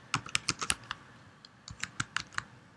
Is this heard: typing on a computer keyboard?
yes